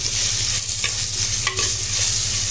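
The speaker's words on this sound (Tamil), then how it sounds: "இதை நல்லா வதக்கிடலாம். இந்த எண்ணெயிலே நல்லா வதங்கணும் இந்த வெங்காயம்." Onions sautéing in hot oil in a clay pot for ghee vanjaram fish curry, giving a loud, steady sizzle with a couple of brief stirring scrapes close by and no voices.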